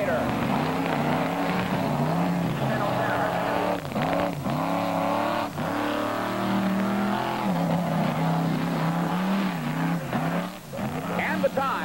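A 1988 Ford mud racing truck with a 460 cubic inch Ford engine roars and revs hard at a mud racing event, engine pitch rising and dipping repeatedly while an announcer talks over it.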